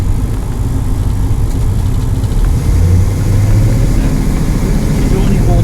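A tuned 1966 Dodge Coronet V8 with a Radical camshaft and Edelbrock carburetor rumbles steadily at low pitch throughout, a loud, continuous engine drone with no sharp revving.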